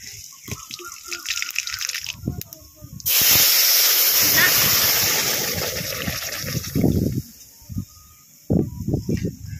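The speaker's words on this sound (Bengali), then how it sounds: "তেলের মধ্যে সরিষা ফোড়ন দিয়ে দেবো" Mustard seeds tossed into hot mustard oil in a wok burst into a loud, sudden sizzle a few seconds in, then slowly ease off into scattered crackles and spits. Faint background noise comes before it.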